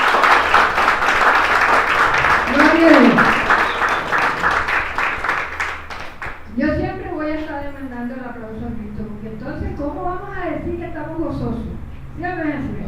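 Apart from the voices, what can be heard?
audience applause in church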